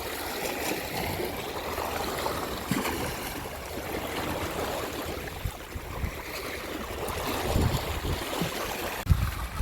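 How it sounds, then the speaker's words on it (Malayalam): Sea waves surge onto the shore in a steady, rushing wash of water that rises and falls, heard up close with no talking. "നല്ല തിരയാണ് തിര ഇങ്ങനെ അടിച്ച് കയറുന്നുണ്ട്"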